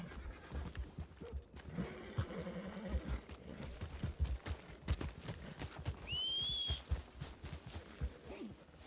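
A horse in the RedM western game clops along with steady hoofbeats, snorting and giving a sharp whinny partway through, heard fairly close over a quiet outdoor background.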